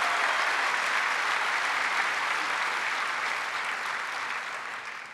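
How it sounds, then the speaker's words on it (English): Sustained applause from a large convention crowd, steady and full, slowly tapering off toward the end. "let's give all of our chapters a big round of applause"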